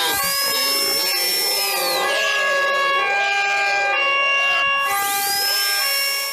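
A wailing siren sweeps up and down in repeated rising and falling tones, loud and close, sounding alone throughout.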